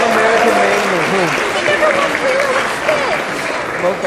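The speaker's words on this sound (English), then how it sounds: "Another round of applause for Tom Russo" A convention crowd at an opening ceremony gives a loud, continuous round of applause for an honoree. A voice carries over the clapping the whole time.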